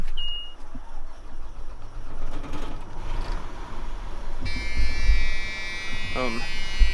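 A 2003 National Tropical motorhome's engine cranks and starts, with mechanical whirring and a dashboard beep, followed by a steady idle heard from the cab, with a voice talking briefly.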